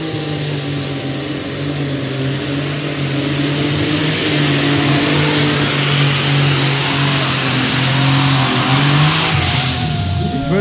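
A loud tractor pulling engine roars and revs steadily at a competition, a heavy motor straining under load throughout with a dense, continuous growl and no pauses.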